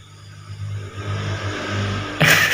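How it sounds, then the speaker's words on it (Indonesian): A motorcycle passes by outside a village home, its engine growing steadily louder as it approaches and ending in a sharp, loud burst. "motor lewat."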